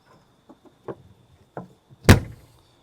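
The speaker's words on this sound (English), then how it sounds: "this is a slam latch door" A single sharp slam-latch door slam with a latching thunk on a 2023 Forest River Cedar Creek 371FL fifth-wheel trailer, preceded by a few soft clicks and handling noises nearby.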